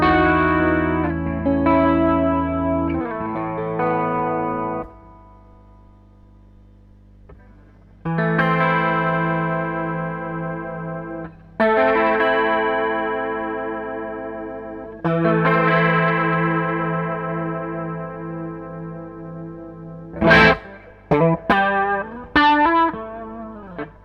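An electric guitar runs through Red Fox and Plexi M effect pedals at a faster speed setting, giving distorted, wavering chorus-like chords that ring out in phrases with gaps, then a burst of sharp plucked notes, with no voices.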